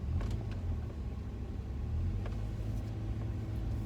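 Car rolling slowly near a fast-food drive-thru, heard as a steady low engine and road rumble from inside the vehicle, quiet and even with a few faint ticks above it.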